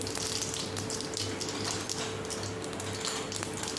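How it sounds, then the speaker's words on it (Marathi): Mustard seeds crackling in hot oil in a kadhai, steady rapid popping and spattering close by, with a faint low hum underneath. "मोहरी छान तडतडली"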